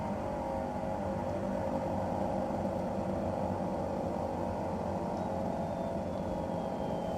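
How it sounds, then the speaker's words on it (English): The left engine of an Embraer 110 Bandeirante running in Microsoft Flight Simulator, a steady, unbroken turboprop drone with a low hum and no change in pitch or level. "Left engine still running."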